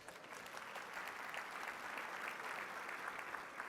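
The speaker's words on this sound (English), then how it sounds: "A warm round of applause for all of them is certainly due" A banquet audience at a national minority supplier awards dinner gives sponsors a steady round of applause, a dense, even wash of many hands clapping at moderate distance with no voices standing out.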